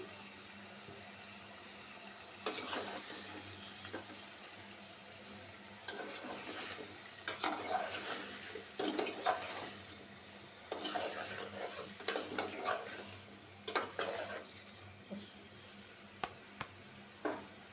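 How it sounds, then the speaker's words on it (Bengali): Spice paste for a fish head curry cooks down in a pan with katla fish head, taro stems and potato, quiet sizzling under repeated bursts of stirring and scraping that grow busier, then sparse sharp clinks near the end. "দুই থেকে তিন মিনিট কষায় নেব"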